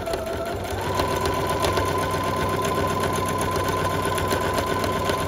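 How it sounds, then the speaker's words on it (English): A sewing machine hums steadily up close, its needle chattering rapidly as it stitches boning channels into a corset for a Halloween costume. It runs continuously without a pause, and no voices are heard. "I'm sewing the boning channels right now."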